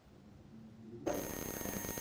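A telephone rings during a live morning radio broadcast, cutting in suddenly and loudly after about a second of quiet room tone and continuing as a steady bright ring.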